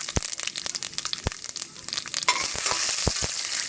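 Mustard seeds, cumin, chana dal and urad dal hit hot oil with sharp pops and crackles, then settle into a loud, continuous sizzle while seeds keep popping.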